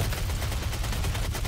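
A Hellshot gun fires in DOOM, a steady, loud stream of rapid gunfire with thick low-end rumble, running continuously without pause.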